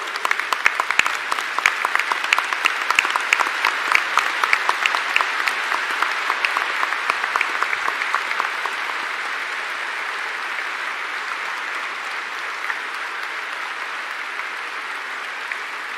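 Audience applause at a spiritual festival for a departing Vice President: dense, steady clapping from a large crowd that starts with sharp individual claps and settles into a sustained wash, fading slightly toward the end, with no talk over it.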